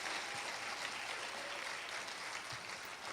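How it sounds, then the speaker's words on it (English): An audience at a beauty pageant claps steadily, a faint, even patter of many hands with no voices over it, lasting about three seconds. "just give them one more hand clap and they could go back to their post."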